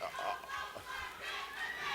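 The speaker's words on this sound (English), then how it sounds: "Then some of Barack Obama's supporters did a cheer that they made for him." Crowd of Barack Obama supporters shouting a chant in unison, a dense, rhythmic burst of many voices that fills the brief stretch from start to finish.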